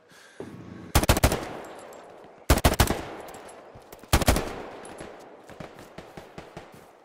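Heavy automatic gunfire in the video game Hell Let Loose comes in three loud, separate bursts of rapid shots, each trailing off into echoing reverberation, with very little talk.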